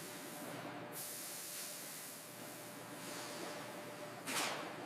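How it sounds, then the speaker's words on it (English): Water sprays across mushrooms in a final rinse at a processing plant, a continuous faint hiss with a couple of brief louder bursts of spray, no voices present. "A final rinse removes remaining debris."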